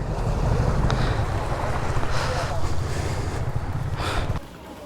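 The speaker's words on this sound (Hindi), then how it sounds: "यहाँ तो पानी चल रहा है भाई।" Water rushing at a dam, a steady broadband roar mixed with gusty wind buffeting the microphone outdoors, holding loud before dropping off sharply near the end.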